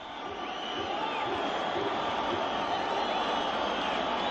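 Crowd noise from a football stadium at an AFC Champions League round-of-16 match between FC Istiklol and Persepolis FC, a broad, steady roar that swells slightly and holds, heard at a distance.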